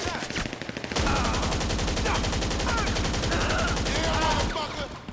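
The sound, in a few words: gunfire from an emptied magazine in GTA 5 Online, a video game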